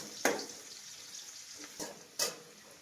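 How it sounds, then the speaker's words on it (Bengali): Onions fry lightly in a pan for Bengali-style chicken kosha, giving a soft, steady sizzle with a few sharp clinks of stirring, quiet and with no talking. "পেঁয়াজটাকে হালকা করে ভেজে নিই"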